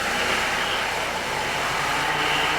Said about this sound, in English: The high-pitched scream you hear in the background is the Mercedes, the most fantastic sounding car we've ever heard.